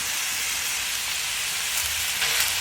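Crumbled sausage and a pound of sliced mushrooms fry in a pan with a steady close sizzle, hissing evenly throughout with no talking.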